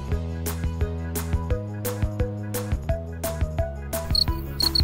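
Cricket chirps in short high bursts near the end, layered over steady tuneful music with piano-like notes that dominate the rest of the clip.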